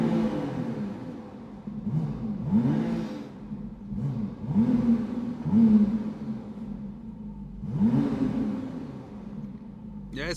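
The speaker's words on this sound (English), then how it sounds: "Listen to the V6 biturbo engine here." A McLaren Artura's V6 biturbo engine revs repeatedly inside an underground garage, several rising throttle blips echoing off the walls, each swelling and falling back to a low idle.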